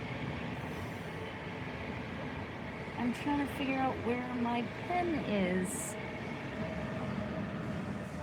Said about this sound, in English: Oh, and that's the sound of the train going by.